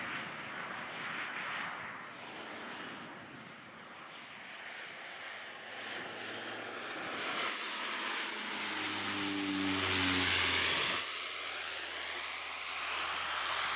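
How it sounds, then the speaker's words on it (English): A steady propeller-plane engine drones throughout on a flight to Shetland, swelling louder toward the end with a rising tonal whine, no voices present. "There's another method of going to Shetland, by plane."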